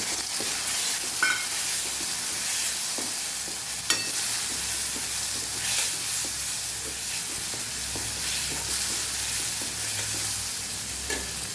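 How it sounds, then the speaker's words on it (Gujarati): Tomatoes sauté in a pan after ginger, chilies and garlic for a Kathiyawadi split moong dal, with a steady close sizzle and hiss broken by occasional stirring scrapes and clicks. "તો અહીંયા ટમેટા પણ સાતળી લેવાના છે"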